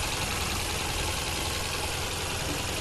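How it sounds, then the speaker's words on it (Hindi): A Tata Nano Twist's engine idles steadily after a full service with an oil filter replacement, a constant low, even hum at moderate level with no voices over it. "तो ये इसका इंजन साउंड"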